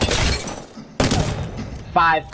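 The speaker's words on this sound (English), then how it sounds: "The Prowler is also a burst submachine gun. It's a 5-round burst." A Prowler burst submachine gun in Apex Legends fires sharp, loud bursts, each a quick cluster of shots, with a voice talking over and between them.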